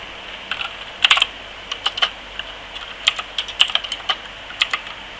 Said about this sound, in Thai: เสร็จแล้วพิมพ์วันที่โอน